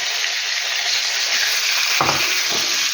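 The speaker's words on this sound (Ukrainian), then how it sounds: "І сюди буду зараз ставити, смажити ось такі ці кусочки сара." Steady, close-up sizzling of pork fat pieces frying in a hot pan, with a brief stir or clatter near the end; no voices.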